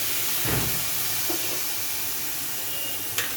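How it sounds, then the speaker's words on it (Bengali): Wet cumin, coriander and turmeric spice paste hits a hot pan for soyabean and cauliflower curry, giving a brief sizzling hiss that rises sharply then settles into a steady low frying crackle, with a small clatter near the end. "এবারে আমি এই যে মশলাটা ভেজানো আছে, এই মশলাটা ঢেলে দিচ্ছি।"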